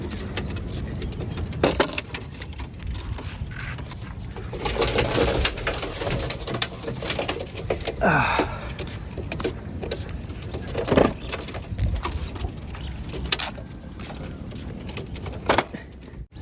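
Pigeons coo softly and repeatedly over a steady background hum, with occasional scuffs and flutters nearby.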